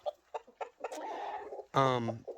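A red hen sitting on eggs clucks in short, repeated bursts, then lets out a louder, drawn-out squawking cackle before the clucks resume, close by.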